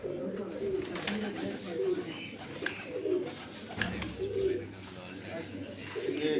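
Pigeons coo repeatedly at a steady, moderate level, their soft low calls rising and falling in a loose rhythm against a background of rooftop ambience.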